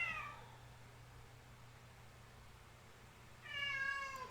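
A cat meows loudly twice, once at the start and again near the end, with a quiet room hum in between.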